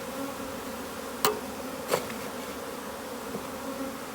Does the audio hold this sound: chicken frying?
no